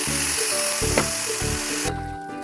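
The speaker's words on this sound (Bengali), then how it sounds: "মটনটা ভালো করে কষিয়ে নিচ্ছে" Mutton sizzles and fries in oily spice paste for a potato mutton curry, a steady close crackle broken by rhythmic stirring scrapes and a metallic clink, with no talking.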